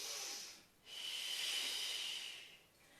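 A slow, deep breath during a yoga exercise, heard up close as a long airy inhale, a brief pause, then an even longer hissing exhale.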